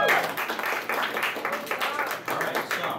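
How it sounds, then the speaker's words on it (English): An audience at an anime convention quiz game applauds the winner, a dense, steady patter of many hands clapping at close-to-moderate distance, with a voice talking over it. "Round of applause again for him."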